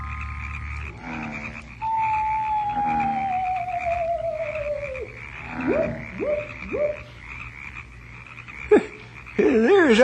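Frogs croaking at night on an island, deep guttural croaks and a long descending pitched call, with shorter falling croaks after, fairly close over a quiet nocturnal background.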